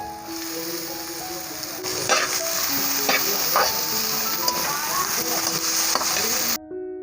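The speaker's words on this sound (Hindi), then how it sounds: "गाजरें, इनको भी हल्का सा भून लेंगे।" Carrots, peas and capsicum fry in a pan for a noodle dish, with a close, steady sizzle and several clattering stirs of a spoon before the sound cuts off abruptly.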